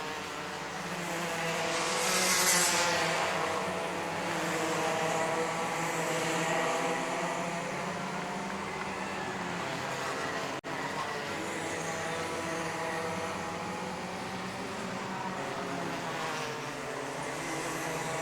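Mini Max racing karts in a kart championship drone past the main grandstand toward a corner, a steady buzzing engine whine that swells and fades slightly as they go by, with no talk heard.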